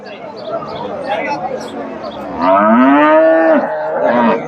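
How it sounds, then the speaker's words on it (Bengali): A Friesian dairy cow at a busy cattle market lets out one long, loud moo close by, after a stretch of murmuring crowd chatter and voices in the background. "এখানে ভাইয়ের কাছে একটা সুন্দর একটা ফ্রিজিয়ান জাতের গাভী"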